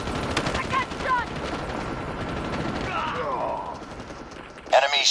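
Call of Duty video-game gunfire, rapid automatic bursts close and loud across the whole stretch, with game announcer speech and effects layered over it and a sharp burst near the end.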